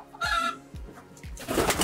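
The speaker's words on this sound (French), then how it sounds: "c'est ça nos pigeons" Pigeons coo in short repeated bursts, three or four low throaty calls close by, with some faint rustling between them.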